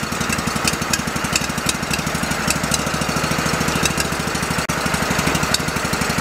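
An old, forgotten Go-For digger engine idles with a holed muffler, a loud, close, rapid and raw chugging putter that is steady and even, with one brief dropout near the end.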